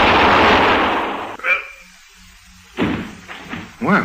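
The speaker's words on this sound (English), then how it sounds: "Put up your hands, Bessie. I'm warning you. I'll shoot if you don't" A gunshot sound effect in a 1951 radio crime drama: one loud, noisy blast that rings out and decays over more than a second, followed by quieter bumps and voices speaking.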